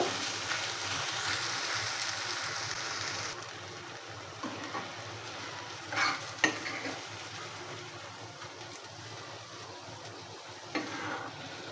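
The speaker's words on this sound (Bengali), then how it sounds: "এগুলোকে আমি ভালো করে একটু ভেজে নিব।" Green chilies frying with tomato in a pan give a hissing sizzle that is strong at first, then drops to a quieter, steady fry, with a few soft clinks and no talk.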